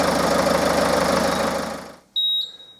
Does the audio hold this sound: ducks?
no